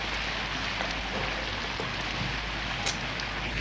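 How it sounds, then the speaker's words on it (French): Steady rain hissing continuously, with a constant low hum underneath and a few faint drips standing out. "Ça va les calmer un peu, cette pluie."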